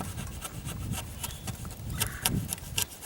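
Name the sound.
chisel shaving out wood for a chicken coop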